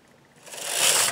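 A knitting machine carriage sweeps across the needle bed for two rows while working short-row graphics, a soft mechanical rasp that rises and swells in the second half, then stops abruptly.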